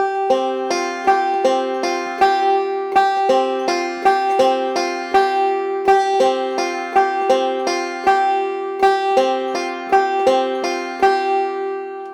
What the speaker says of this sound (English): Let's do a 7-note version of the forward roll